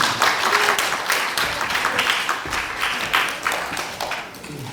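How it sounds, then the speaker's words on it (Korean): Applause from a seated audience at a national assembly suicide-prevention forum in a conference hall, a dense, steady wash of many hands clapping throughout, fairly close and sustained without any talk over it. "큰 박수 부탁드리겠습니다"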